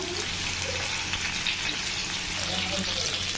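Fish pieces fry in a pan with a steady, even sizzle and hiss that stays constant at moderate loudness, with no clear break for the flip.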